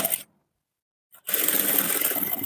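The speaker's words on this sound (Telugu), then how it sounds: "రాంగ్ సైడ్ లో ఒక స్టిచ్ మనం ఈ విధంగా వేసుకోవాలి." A sewing machine stitching blouse fabric along the wrong side of a seam: a short burst of whirring, a pause of near silence, then a steady, close, continuous machine run.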